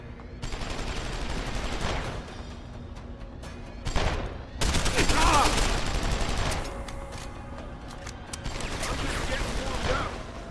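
Machine pistol fire in Deus Ex: Human Revolution: a few rough, loud bursts of gunfire break out over a dense game soundscape, with one especially heavy volley near the middle.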